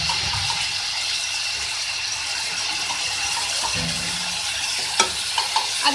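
Sliced round potatoes, about 250 grams, sizzle and fry in a pan for an egg-and-potato breakfast, with a steady hiss throughout and a few sharp clinks of stirring near the end.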